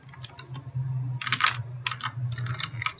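Rapid tapping and clicking of typing on a mobile phone keyboard, in short irregular bursts of keystrokes over a steady low hum, close and moderately loud, with no talking.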